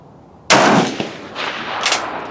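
A single loud, sharp rifle shot at an outdoor shooting range, cracking suddenly out of quiet and then trailing off in a rolling echo, with a second softer report-like swell near the end.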